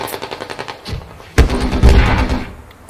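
Rapid bursts of machine gun fire in a combat video game, loud and punchy with a sharp blast near the middle followed by sustained rattling gunfire that fades toward the end.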